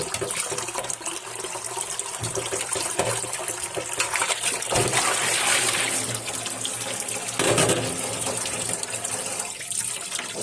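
Potatoes and pointed gourd are rinsed under a running kitchen tap, water gushing and splashing steadily and loudly throughout, close by, with no talk.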